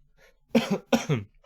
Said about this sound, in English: Oh, my cough is coming back